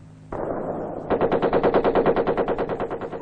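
Automatic gunfire in Vietnamese Ranger training, a rapid burst of evenly spaced, loud shots from a machine gun following a low rumble.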